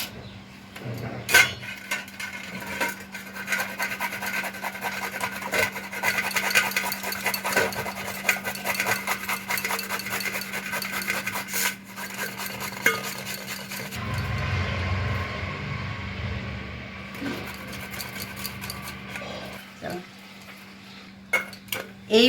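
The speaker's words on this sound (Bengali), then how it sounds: "এইভাবে আমি কিন্তু পুরো আমটা গ্রেড করে নেব।" Raw green mangoes rubbed against a grater for homemade mango leather, a repeated scraping rasp with occasional knocks of the grater, close and steady throughout, with no talking.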